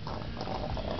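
A sealed HHO hydrogen generator running at about 30 amps bubbles steadily, a faint, continuous gurgling fizz close by.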